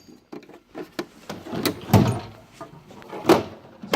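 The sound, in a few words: toolbox hammer drawer opening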